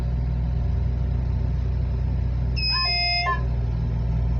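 A Sany SCC8100 crawler crane's engine rumbles low and constant close by while a short electronic beeping tone sounds for under a second partway through, with no one talking.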